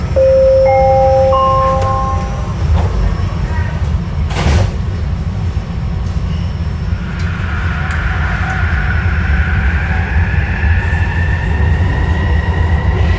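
A Millennium Line SkyTrain car rolls along an elevated track toward Lafarge Lake–Douglas in January, with a steady loud rumble, rising wheel and motor whine, and brief door-like chimes near the start.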